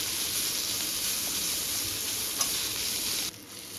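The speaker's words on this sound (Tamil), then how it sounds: "கட் பண்ணி வச்ச தக்காளி போட்டு இப்போ நல்லா வாடி குழஞ்சி வரும் அது வரைக்கும் வதக்கிக்கணும்" Chopped tomatoes sautéing in a pan for a leftover idli dish give a steady, close frying sizzle with soft stirring scrapes, dropping slightly quieter near the end, with no talking.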